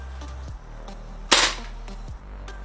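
Pellet gun fired at a target: one sharp, loud crack midway through, over a low steady background hum and a few faint soft knocks.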